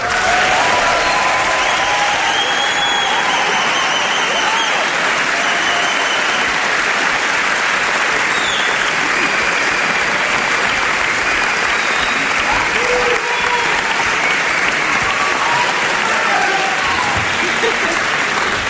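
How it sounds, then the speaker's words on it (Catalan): Thunderous ovation from a theatre audience greeting a performer at a Christmas musical show, loud sustained clapping and crowd noise holding steady for nearly twenty seconds without a break. "rebem amb una ovació eixordadora a l'excel·lentíssim rei del Palau, Xavier Pérez Esquerdo"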